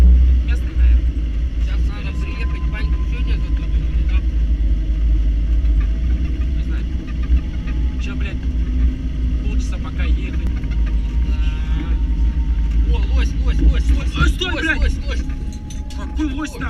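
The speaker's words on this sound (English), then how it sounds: "The footage shows a car driving down a dark, snowy road late at night" A car drives down a dark, snowy road late at night, its engine giving a steady low rumble and road noise throughout, with faint higher clatter toward the end.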